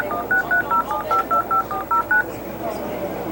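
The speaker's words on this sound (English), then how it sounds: "I'm gonna try to call that now." Ten short DTMF keypad beeps from a telephone being dialed sound in a steady, even rhythm, loud and close, followed by a brief low murmur after the last tone.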